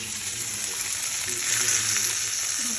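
Pomfret fish fries in a pan, a continuous close hiss and sizzle of hot oil with faint stirring clinks, steady and loud throughout with no talk.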